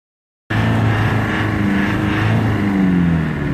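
A Ford Granada engine revs hard as the car tries to accelerate on a snowy mountain road, a loud, steady drone that starts abruptly and holds with a slowly falling pitch throughout.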